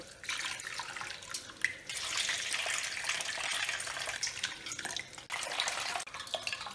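Rice being rubbed and rinsed by hand in a basin of water while cooking dal and rice at home; a steady wet swishing and splashing continues for about seven seconds with no talk.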